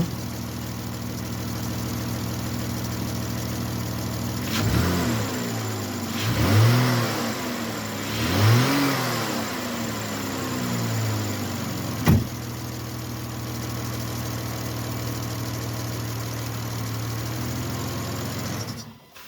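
A 2011 Chrysler Town and Country with a 3.6L V6 idles steadily after a tune-up, with three quick throttle blips rising and falling, followed by a sharp click and a return to a smooth, even idle.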